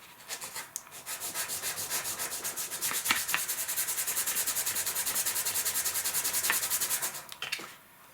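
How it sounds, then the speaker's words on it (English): Wooden ties for a model gondola load are sanded by hand in quick, regular back-and-forth strokes, a close rhythmic rasping that starts hesitantly, runs steadily for several seconds, then stops. "sand the outer one"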